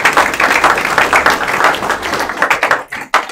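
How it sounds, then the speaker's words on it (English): Audience at a Career and Technical Education (CTE) signing day ceremony giving a round of applause, loud, dense clapping from many hands that thins out into a few scattered claps near the end. "Let's please give them a round of applause."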